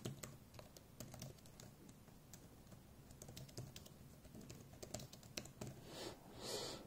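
Fast typing on a HOU keyboard cover for an iPad Pro 11, a dense, steady patter of close, crisp key clicks running without pause and with no voices.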